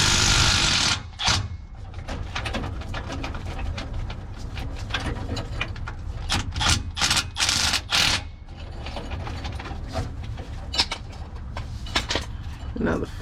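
Bolts come loose on the differential cover of a Nissan Xterra, heard as a close, rapid rattle of ratchet clicks in uneven bursts over about thirteen seconds, with brief pauses between runs.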